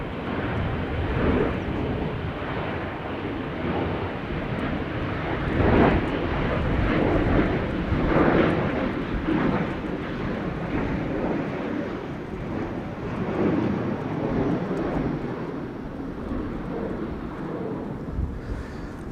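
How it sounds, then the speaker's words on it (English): A KLM Boeing 777-200ER arriving from Rio de Janeiro at Schiphol Airport gives a continuous, heavy jet roar that swells and fades gently, with buffeting wind on the microphone. "Time for KLM flight 706 arriving from Rio de Janeiro. That is a 777-200ER."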